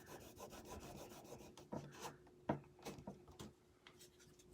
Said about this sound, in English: And make sure you rub it down.